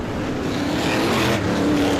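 Race cars roar together on a short-track oval at the start of a race, a dense, loud, continuous engine drone with no pauses and no voices.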